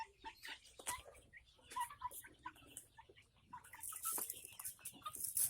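Free-range village chickens cluck and chatter in short, overlapping calls, close by and fairly constant, with faint rustling in the yard.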